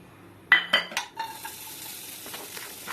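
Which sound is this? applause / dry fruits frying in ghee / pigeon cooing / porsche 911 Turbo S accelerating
dry fruits frying in ghee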